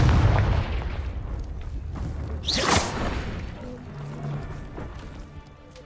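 A Confringo explosive spell is cast in Hogwarts Legacy: a short whooshing burst rises and then cracks into a loud blast about midway, over a steady game background rumble with faint trailing effects.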